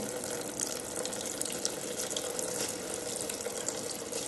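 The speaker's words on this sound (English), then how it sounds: "There's water in the bucket running into the trough" Water pours steadily from a bucket into a trough of fine and normal sand, a continuous close splashing trickle with no pauses.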